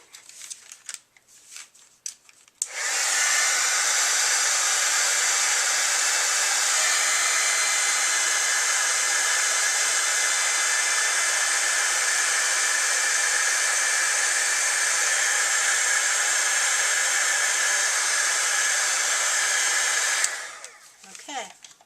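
Heat embossing tool melting clear embossing powder on a handmade Christmas card, a steady loud blower hiss that starts after a few seconds of faint handling noise, runs evenly, then cuts off near the end.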